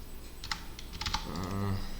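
Quick keystrokes on a computer keyboard during a front-end coding lesson, heard as a few close clicking bursts before a voice begins to speak at the end.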